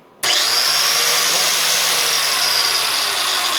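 An angle grinder powered by an MPP LV6548 inverter running off a SOK 5 kWh server battery kicks on abruptly and holds a loud, steady high-pitched whine, its motor pitch sagging slightly as it keeps running alone.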